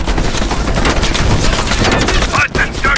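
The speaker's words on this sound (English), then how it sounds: "Heavy MG on the ridge!" Heavy machine gun fire in Black Ops Cold War, a dense, rapid stream of loud close bursts that barely lets up, with brief shouted voices near the end.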